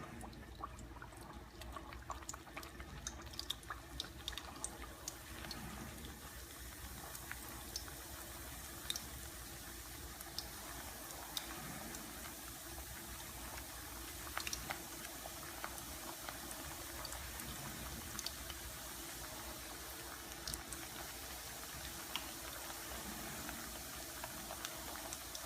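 Farsi puris deep-frying in hot oil, a steady soft bubbling and fizzing with faint crackles, continuous and low in level throughout.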